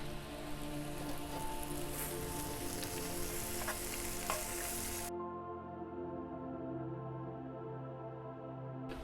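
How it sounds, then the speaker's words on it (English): Vegetables sautéing in a pizza oven sizzle and crackle loudly and continuously, a dense frying hiss with small pops that drops to a quieter, duller sizzle partway through; no talk. "we're just going to saute these veggies in there. And you can hear them sizzling"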